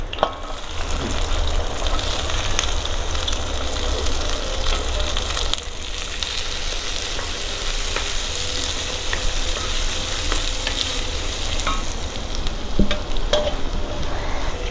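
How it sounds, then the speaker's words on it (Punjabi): Onions fry in a ghee tempering for sarson ka saag, a loud continuous sizzle close by, with crackling spits and the scrape of a spoon stirring throughout. "ਨਾਲ ਹੀ ਆਪਾਂ ਇਹਦੇ ਪਿਆਜ਼ ਪਾ ਦਾਂਗੇ"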